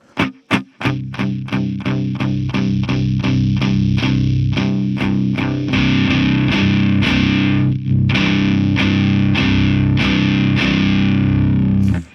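An electric guitar runs through a Figure 8 FX Bicep Vaporizer overdrive pedal with the blender fully counterclockwise and the drive near 8 to 9 o'clock. It plays a few sharp picked stabs, then loud sustained distorted chords, with nobody talking.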